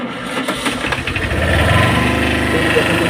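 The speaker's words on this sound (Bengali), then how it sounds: "গাড়ি স্টার্ট করে দেখা দিচ্ছি, তারপরে দেখবেন স্টার্টের কন্ডিশন দেখেন।" A Tata EX2 vehicle engine cranks and catches, the rough uneven starting bursts settling within a second or two into a loud, steady running rumble close by.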